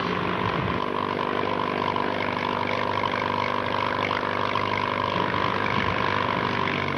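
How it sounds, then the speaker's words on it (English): Boat engine runs steadily with a continuous droning hum and even mechanical rumble throughout, fairly loud and close, with no talking. "What's the matter with that engine?"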